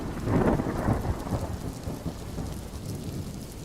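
A rainy thunderstorm gives a low thunder rumble that swells early and then fades under a steady wash of rain.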